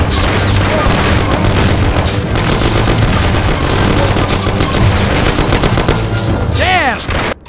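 A Mafia: The City of Lost Heaven shootout fills the scene with loud, continuous gunfire, dense bursts of shots and booming reports with no break, and a brief whizzing sound near the end.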